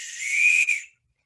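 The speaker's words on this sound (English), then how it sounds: "Whistle, very important." A cheap handheld whistle from a prepper's emergency kit gives one loud, shrill, steady blast of about a second, close to the mic, then cuts to silence with no voices.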